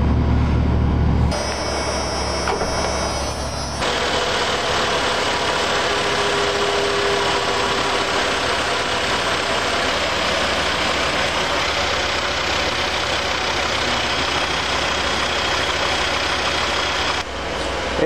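A 1989 Ford F150 Big Six engine idles cold on a winter day, holding a continuous, even, low rumble up close with no voices.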